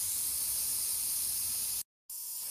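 An airbrush spraying paint freehand gives a steady, loud, close hiss of air that cuts out for a moment before resuming just as evenly.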